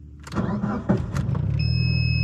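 A Mitsubishi Lancer Evo 7 engine cranks and catches after some clunks and handling noise, then settles into a steady, close idle with a faint high whine.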